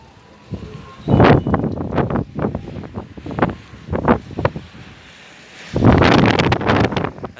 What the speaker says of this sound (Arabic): اليوم هوا